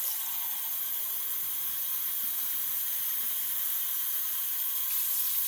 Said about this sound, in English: rinse off my hands because this stuff is slick